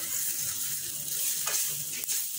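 Butter sizzling steadily in a pan while cooking chicken kuzhimanthi, a soft continuous hiss with a couple of brief utensil scrapes near the end.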